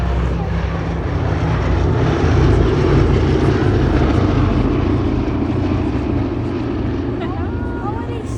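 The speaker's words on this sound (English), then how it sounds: "B-17 coming in to touch down on the hard runway." Boeing B-17 four-engine propeller bomber landing on a hard runway at Sywell Air Show, its engines droning steadily and loudly throughout, with a commentator speaking over the sound.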